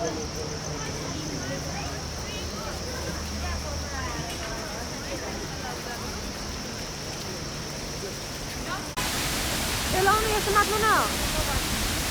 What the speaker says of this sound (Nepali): हामी आएको झर्नामा हो